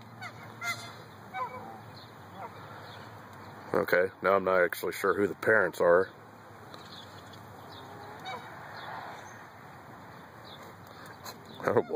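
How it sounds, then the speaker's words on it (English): Canada geese honk in a brief burst of loud, harsh calls during a goose fight among adults with goslings, set against steady outdoor background noise while a person talks nearby. "A little bit of a goose fight."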